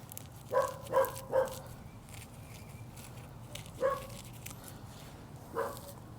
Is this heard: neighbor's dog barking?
yes